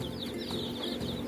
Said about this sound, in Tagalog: Ito mga sisiw.